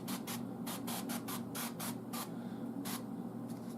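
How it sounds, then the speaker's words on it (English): Short hissing bursts of extra virgin olive oil spray into the bottom of a waffle iron, about a dozen quick puffs in irregular rhythm, close and fairly quiet over a low hum. "And I bought some spray extra virgin olive oil, and you're going to spray a little bit in here and just the bottom."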